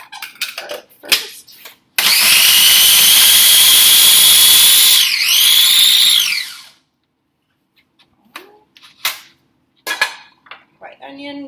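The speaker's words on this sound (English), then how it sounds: "I'm going to cheat and use my mini food processor, which I highly recommend if you're not that fast with a knife, to do my garlic and my onion" A mini food processor chops garlic with a loud, close motor whir lasting about five seconds. Its pitch dips briefly near the end before it stops, followed by quieter clicks and handling noises.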